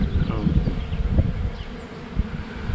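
Dense buzzing of many honeybees swarming close by at a colony in a tree trunk, a continuous droning hum with individual insects zipping past.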